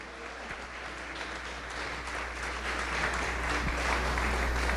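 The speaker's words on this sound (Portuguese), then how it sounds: "aplauda Ele agora e glorifique o seu nome" A church congregation applauds in worship to glorify God, a steady, fairly distant wash of clapping under a low hum, holding even and slightly swelling throughout.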